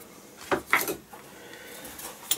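Clean spoons and forks lifted from a dishwasher clink and rattle in a few brief, faint metallic taps, with quiet handling noise between them.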